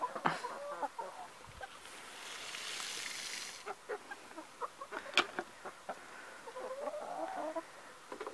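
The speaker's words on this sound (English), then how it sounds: "Look at that chicken." A chicken clucks in short, scattered bursts close by at an outdoor truck show in Mackinac City, Michigan, with a soft wash of background noise and no talk.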